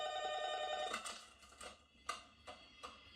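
A telephone rings with a sustained, tonal electronic trill that cuts off after about a second, followed by a few sharp clicks and knocks nearby.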